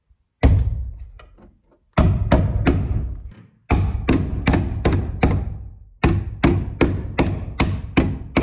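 Steady hammer strikes drive nails into metal nailing plates on a wall stud over PEX pipe, sharp close thuds in quick bursts of three to six blows separated by short pauses.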